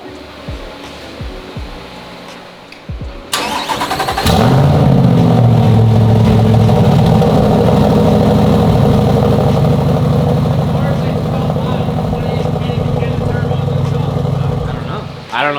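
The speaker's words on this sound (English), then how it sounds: "It's just the car is so V8 loud." A Chevrolet Corvette C8's V8 engine cranks and catches, then settles into a loud, throaty, rumbling idle that holds steady; voices are heard faintly beforehand.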